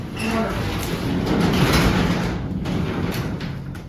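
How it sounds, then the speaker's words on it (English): The door of an old barn-find Cadillac is opened up close, with a steady mechanical scrape and rumble lasting the whole moment, loud and close. "I'll open up this door here."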